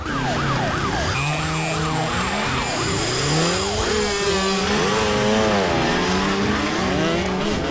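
A loud police siren sweeps rapidly up and down, then shifts into a slower rising and falling wail, mixed with traffic and engine noise.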